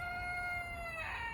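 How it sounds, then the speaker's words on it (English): A rooster in a backyard garden lets out a brief, fairly faint crow, with its sustained tonal call cutting through quiet outdoor background. "sorry about the rooster"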